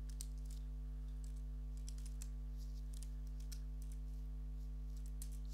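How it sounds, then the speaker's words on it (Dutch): Computer keyboard typing, a faint run of irregular clicks over a steady electrical hum during a Minecraft Flappy Bird game, with no voices. "Ik zal proberen te typen."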